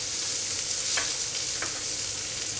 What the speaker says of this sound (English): So we'll get the onions in, get them nice and coated in it.